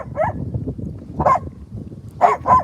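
A dog at a lake lets out several short, sharp barks in uneven bursts, close and fairly loud, with low rumbling background noise between them.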